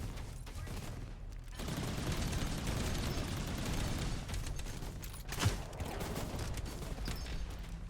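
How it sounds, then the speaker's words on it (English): Automated turrets fire steadily in the sci-fi tower-defense game Outpost Infinity Siege, a dense rattling barrage of shots that runs nearly the whole time after a brief quieter start, with one louder burst partway through. "Turrets are actively attacking a thing they cannot reach."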